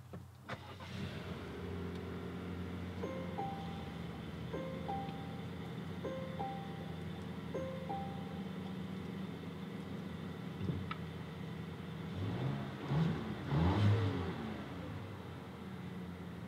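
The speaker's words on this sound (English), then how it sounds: "So let's go ahead and start it up." A 2019 Volvo XC40 T5 R-Design is push-button started: a few soft electronic chimes sound, then the starter cranks and the engine catches, revs briefly and settles into a quiet idle.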